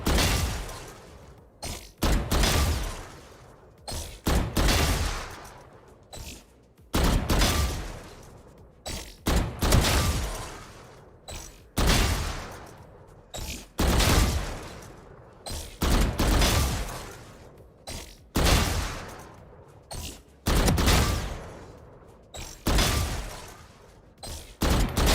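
Repeated gunfire in the Valorant shooting range, a video game: loud bursts of rapid shots arriving in regular clusters every couple of seconds, with brief pauses between volleys throughout.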